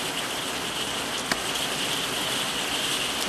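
Steady rain falling outdoors, a continuous broadband hiss with no distinct drops, holding even and moderately loud throughout, with one brief sharp tick partway through.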